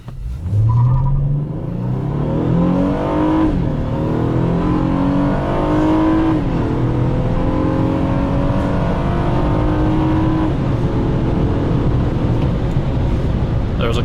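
2014 Honda Accord with a KTuned V6 accelerating hard on an open road, engine note climbing steadily through the revs and shifting between gears, loud and close from inside the cabin.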